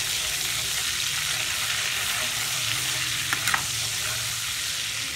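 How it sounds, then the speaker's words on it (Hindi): Red chili powder frying in oil and butter over a low flame for a shahi paneer gravy, a steady, dense hiss and sizzle throughout with a couple of soft utensil clinks near the end. "तो इनको हम डाल देंगे ऑयल और बटर के अंदर। अब हम इसके अंदर डालेंगे 1 टीस्पून लाल मिर्चों का पाउडर।"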